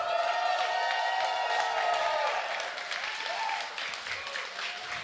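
Crowd at a Tekken 7 grand finals tournament applauding and cheering, a dense wash of clapping and shouts that stays loud and then eases slightly.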